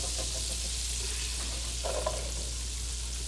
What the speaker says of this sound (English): And I'm going to put the onions in.